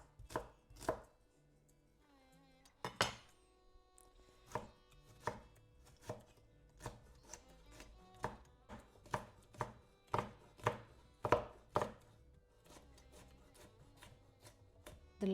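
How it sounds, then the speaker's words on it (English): Tomato and pepper chopped on a cutting board for an omelette, sharp knife strikes landing in an uneven rhythm with short pauses, close and clear with no talking. "I can just chop it all, mix it all together."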